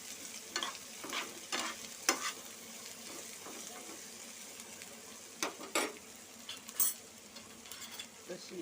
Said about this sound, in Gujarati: કંટોલા નાખશું અને સારી રીતે હલાવશું.